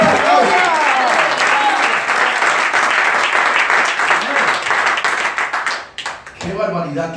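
A church congregation bursts into loud, dense applause during a sermon, with crowd noise mixed in, before it fades out and a voice resumes speaking near the end.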